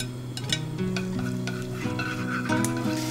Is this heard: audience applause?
no